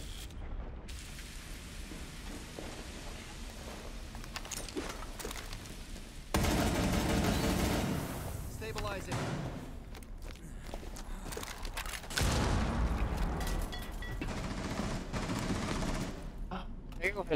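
Shotgun blasts in a video game ring out in a few loud bursts amid scattered shooting and footsteps, with people talking over the gameplay.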